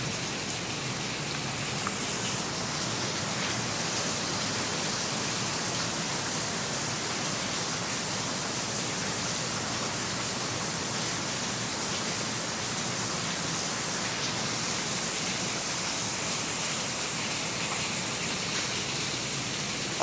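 Heavy rain pours steadily onto a roof during a violent storm, a dense, constant rushing roar with a low rumble beneath it and no voices.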